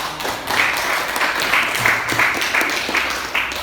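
Students in a classroom clap for a classmate's answer in a math lesson, a few seconds of fairly close, steady applause with rhythmic claps.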